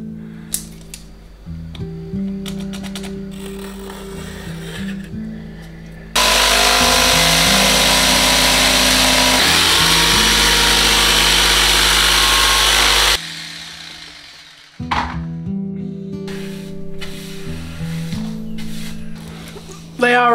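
A loud power sander runs continuously for several seconds, a broad rough hiss, between stretches of a person talking.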